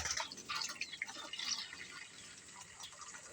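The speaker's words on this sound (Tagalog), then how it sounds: "So lalagyan na natin yung lalagyan na lang ng tubig." Water mixed with probiotic trickles and splashes into a basin set out for chickens, close and quiet, with bright dripping and pouring sounds that settle into a softer, steady wash toward the end.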